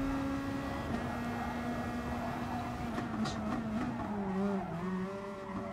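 Car tires sliding and squealing during a Gran Turismo Sport online race, with steady loud engine drone throughout and tonal tire squeal rising near the end.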